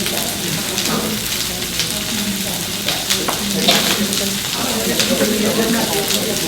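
Garlic sizzling in a frying pan, a steady loud hiss with crackle and stirring scrapes throughout, under a cook talking.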